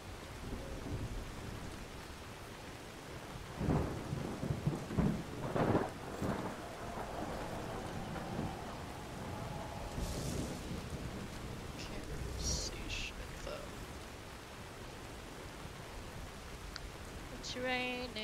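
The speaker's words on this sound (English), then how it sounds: "It's raining, it's pouring, the dragons are snoring." Steady rain and rolling thunder in the video game Skyrim (Dawnguard), a constant wash of rainfall with a few louder thunder rumbles, while a person talks over it now and then.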